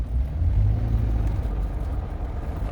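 Engine of a Toyota Highlander hybrid cutting in as the gas pedal is pressed, a low, steady rumble from inside the cabin that swells slightly and then holds.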